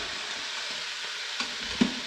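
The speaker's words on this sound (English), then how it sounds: "next thing I'm going to do is dump in all of these vegetables" Vegetables are dumped into a pot for a curry and start to sauté, giving a steady, fairly quiet sizzling hiss with a couple of soft clinks near the end.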